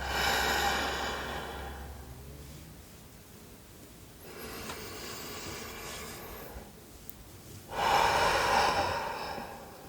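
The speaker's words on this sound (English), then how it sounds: "Take some deep breaths." Slow, deep breaths during an ASMR breathing and grounding exercise, each long inhale and exhale a close, airy whoosh, with quieter gaps between three breath cycles.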